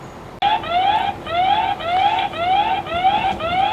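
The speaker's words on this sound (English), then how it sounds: "There's a little siren on there." A security camera's built-in alarm siren wails, sweeping up repeatedly in a steady, fast rhythm, loud and close, with no voices.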